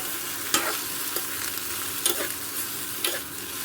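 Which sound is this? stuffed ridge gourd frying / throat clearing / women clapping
stuffed ridge gourd frying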